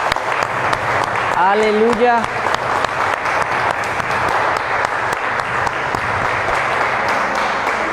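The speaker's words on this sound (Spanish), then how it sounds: "Denle un aplauso al Rey." A church congregation claps steadily for several seconds, brisk and continuous, while a voice shouts a praise word early on over the clapping.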